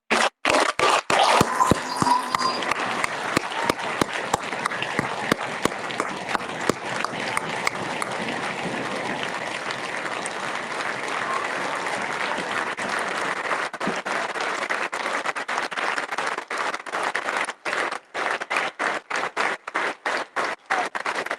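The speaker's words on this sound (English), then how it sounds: "Let's have one more round of applause for all of our veterans." A school audience gives a sustained round of applause at a Veterans Day assembly honoring veterans, dense clapping filling the room loudly for about twenty seconds before thinning toward the end.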